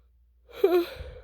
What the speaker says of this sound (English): Ooh, that was a yawn.